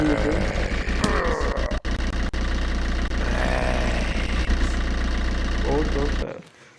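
A vehicle engine in a cheap zombie mobile game idles loudly and revs steadily, a continuous droning rumble that cuts off abruptly at the end, with someone talking over it.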